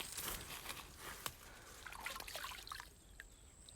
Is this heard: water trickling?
yes